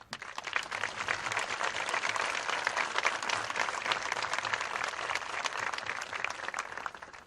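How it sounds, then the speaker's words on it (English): A crowd at a high school stadium graduation ceremony applauds steadily for several seconds, a dense, even wash of clapping heard from a distance. "a round of applause, please"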